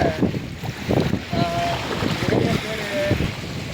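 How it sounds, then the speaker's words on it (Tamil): Boat at the seashore at Tirtandavam beach, with steady wind rumbling across the microphone, faint water movement beneath, and a voice talking briefly over it. "போட்டில் ஏறியிருக்கேன்."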